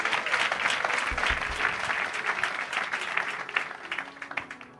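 Wedding congregation at a religious ceremony breaks into sustained applause, a dense crowd of clapping hands that swells early and then thins into scattered claps near the end.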